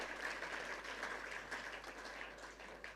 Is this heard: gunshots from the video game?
no